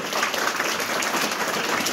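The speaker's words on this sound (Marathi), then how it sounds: "त्यांचा प्रथम आपण टाळ्या वाजून जोरदार स्वागत करायचंय" An audience at a Raghoji Bhangre birth anniversary ceremony breaks into dense, steady applause to welcome a man honoured with the Karmayogi award, many hands clapping at once without a break.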